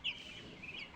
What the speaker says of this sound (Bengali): মুরগিতে গমের ভুসি আর ভাত তাই খায়।